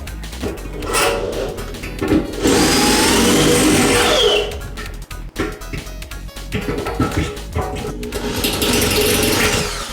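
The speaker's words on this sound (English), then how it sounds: "I got a corded drill right now that I'm using" A corded drill cuts through plumbing under a kitchen sink, whining loudly and steadily, bogging and surging as it bites, with brief stops and restarts.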